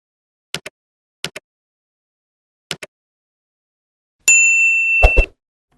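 Three quick double-clicks are followed by a bright, ringing notification bell ding that rings out for about a second before a short plop ends it, all clean and close.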